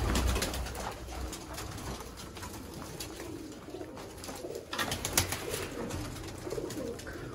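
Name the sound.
pigeons cooing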